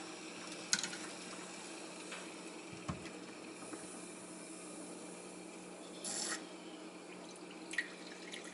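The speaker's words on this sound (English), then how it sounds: "So there is a small consistent drip here in the steam arm." Small steady drip from the steam arm of a La Pavoni Millennium espresso machine, faint occasional drops over a quiet room hiss, with no talking.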